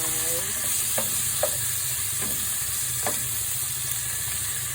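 Ground pork (giniling) frying for pancit palabok, a steady sizzle with several sharp scraping stirs of a spatula against the pan, alongside faint background music.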